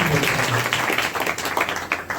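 A church congregation clapping at a village worship meeting, a dense, steady patter of many hands mixed with voices and a faint tonal hum beneath.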